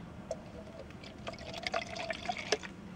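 Water poured into a protein shaker bottle, a soft steady trickling fill with small drip-like splashes, moderately faint and close, with no talking.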